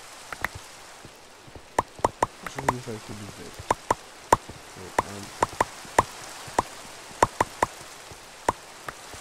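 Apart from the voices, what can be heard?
rain in Minecraft video game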